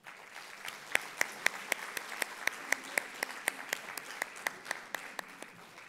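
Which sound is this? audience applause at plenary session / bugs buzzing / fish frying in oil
audience applause at plenary session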